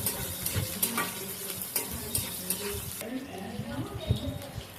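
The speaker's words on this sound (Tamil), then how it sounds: "மூணு பச்சை மிளகா, 2 பெரிய பூண்டு போட்டு அதையும் நல்லா வதக்கி எடுத்துக்கணும்." Green chillies and garlic sauté in a pan for chutney, giving a steady sizzle with scraping stirring clatter, while someone talks over the cooking.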